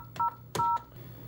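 Telephone keypad DTMF tones while entering a number for an automated customer service line: two short, clear beeps about a third of a second apart, each starting with a click of the key, over faint line hiss.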